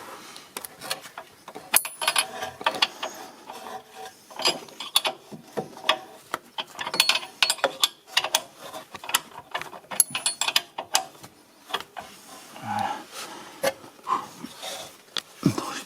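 A ratchet wrench undoes a 17 mm nut on the rear suspension arm of a 2006 Mercedes C200, with bursts of rapid clicking and metallic clanks in an irregular rhythm, close and without talk.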